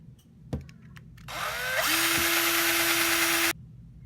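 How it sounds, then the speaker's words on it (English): A power drill bores into a diecast toy car, its motor whining steadily for about two seconds up close after a few faint knocks, then cutting off abruptly. "As always, begin by drilling out your car."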